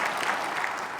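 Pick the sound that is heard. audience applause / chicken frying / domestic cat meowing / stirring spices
audience applause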